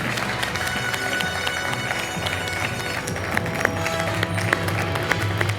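A French TV quiz show studio audience, Questions pour un Champion, gives dense sustained applause for a new champion, steady rapid clapping throughout.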